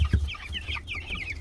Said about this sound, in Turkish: şurada duran tavuk, onun dibindeki horoz